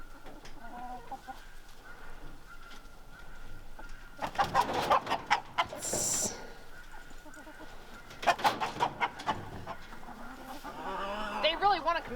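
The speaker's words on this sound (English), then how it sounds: "There's a mean rooster." Rooster and hens on a pasture-raised chicken farm cluck and squawk in clustered bursts, fairly close and loud, with a few sharper outbursts among steady background clucking and occasional human voices.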